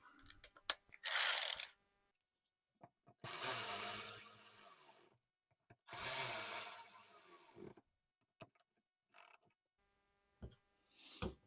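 A ratchet tightening the fuel bowl bolts on a 7.3L 1999–2003 Powerstroke diesel, heard as a short burst and then two longer runs of rapid clicking close up, separated by quiet gaps and small taps.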